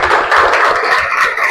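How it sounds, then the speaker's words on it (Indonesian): Audience clapping at an Indonesian training session, a dense steady patter of many hands filling the whole moment with no voices over it. "tepuk tangan."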